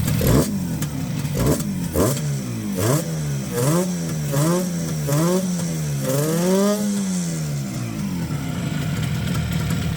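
An IZh Jupiter 5 motorcycle engine, its gearbox just repaired, revs up repeatedly in a rising and falling rhythm of throttle blips over a steady idle, close and loud.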